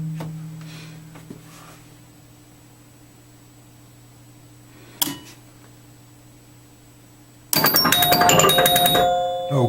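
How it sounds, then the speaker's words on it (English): A Bally Eight Ball pinball machine, just switched on, plays its electronic startup tune: a loud, dense run of bright chiming tones that bursts in near the end after a quiet hum and a single click. "played the startup tune, and if I look at it, the displays are up, everything works"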